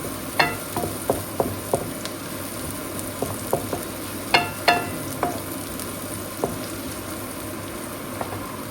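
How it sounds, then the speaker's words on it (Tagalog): Onion and garlic sautéing in a pan for beef caldereta, a steady soft sizzle under repeated sharp taps and scrapes of a utensil stirring against the pan, close by with no talk. "ginisa kong sibuyas at bawang"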